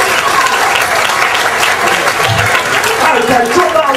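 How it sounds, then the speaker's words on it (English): Audience applause at a magic show, a dense, steady, close burst of many hands clapping that holds for the full four seconds, with a voice faintly audible over it. "Wow, give him a big clap,"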